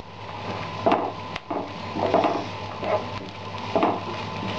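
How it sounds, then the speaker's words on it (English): Onions sautéing with ginger paste and garlic paste in a pan give a steady low sizzle, broken by soft wooden scrapes and knocks of a spoon stirring close by. "Saute the onions for a couple of minutes and then add about 1/2 a teaspoon of ginger paste and 1/2 a teaspoon of garlic paste."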